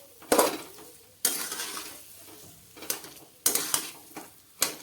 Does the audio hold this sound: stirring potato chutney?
yes